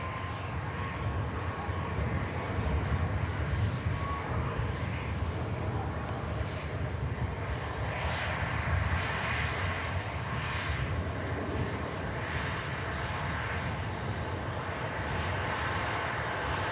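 Boeing 747-400 at Manchester Airport, its engines a steady, broad jet roar that holds loud and even throughout, with a slight swell and wind-like rush partway through and no pauses.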